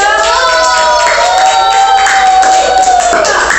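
Applause with cheering and shouting from a classroom audience of children during a school lesson, loud and continuous throughout, with high voices rising over the clapping.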